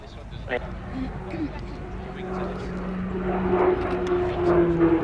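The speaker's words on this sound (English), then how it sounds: "keep your cameras panned on the aircraft as he appears to hang at the peak of his stall turn" A jet aircraft flies a stall turn at the Cosford Airshow 2019, its distant engine drone slowly swelling beneath a public-address announcer's talk.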